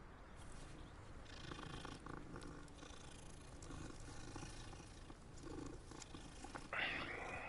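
A cat purrs softly while being petted in the video game Hogwarts Legacy, a low continuous rumble under quiet ambient noise, with a brief brighter sound near the end.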